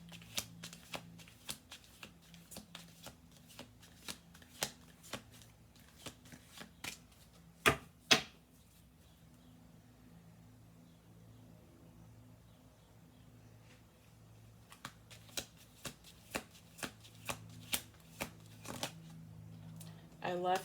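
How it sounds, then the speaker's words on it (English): A deck of cards is shuffled in quick riffles, sharp close flicks and rapid patter in bursts with a pause in the middle, over a quiet low background. "I'll do one more shuffle, okay?"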